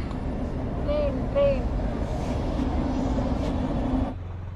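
A train passes near a park in a steady, loud rumble with rolling wheel noise that holds for about four seconds before cutting off, while a voice talks over it.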